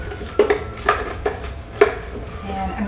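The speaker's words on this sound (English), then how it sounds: "So now I'm just gonna mix this up a little bit." Cheesecake crust ingredients mixed in a bowl for raspberry cheesecake bites, with a handful of distinct utensil clinks and scrapes against the bowl at uneven intervals, close and moderately loud, no talking.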